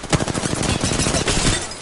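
Rapid automatic gunfire aimed at the player in a PS4 shooter, a dense, loud burst of overlapping shots with no pauses.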